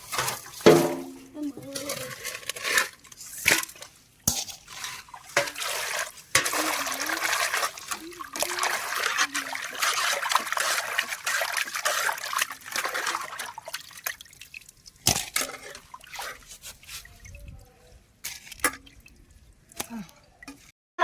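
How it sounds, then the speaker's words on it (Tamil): Water sloshes and splashes in a basin as fish are rubbed and rinsed by hand, with trickling, dripping and occasional clinks of a pot nearby. "ஒரு மூணு நாலு தண்ணில் நல்லா கழுவிக்கிறேங்க"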